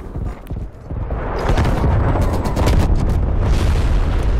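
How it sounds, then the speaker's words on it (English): Napalm strike explosions in Black Ops Cold War erupt as a heavy, sustained roaring boom that swells loud and stays dense for several seconds, with crackling bursts layered through it. "Enemy napalm strike incoming."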